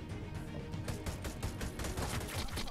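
Rapid, dense gunfire bursts from the video game Hyper Scape rattle almost continuously, loud and close, with no pauses between volleys.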